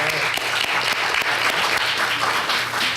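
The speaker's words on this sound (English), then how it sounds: "Let's give them a round of applause." Audience members at a public health panel applaud, with steady overlapping claps from a large group that hold at an even level for a few seconds.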